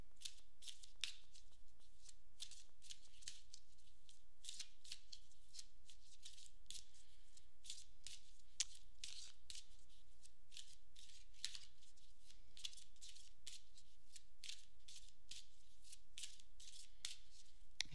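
Tarot cards are shuffled by hand in a long run of crisp, rapid riffling bursts that repeat steadily and close up, with no talking.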